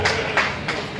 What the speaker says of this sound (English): Thank you to the 6 people that just clapped for me.